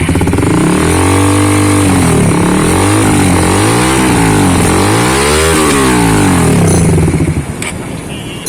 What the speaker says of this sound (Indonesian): itulah suara dari knalpot akrapovic Purbalingga